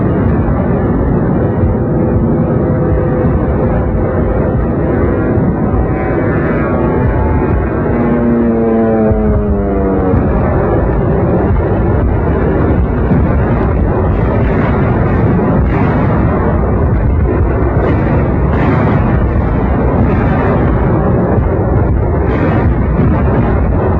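Wartime film battle of Allied air force planes bombing and strafing German forces: a loud, unbroken roar of explosions and rumbling engines, with a droning aircraft passing and falling in pitch partway through, and no voices.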